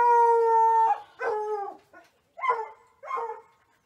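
A neighbouring dog howls in a long drawn-out tone, then lets out several shorter barking yelps in quick succession, loud and close with no talking over it.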